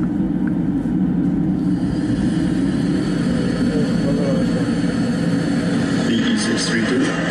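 Airplane landing on runway 32 in a 10-knot crosswind in a movie scene, heard as a steady, loud, broad engine roar and rumble throughout, with a faint higher whine rising near the end.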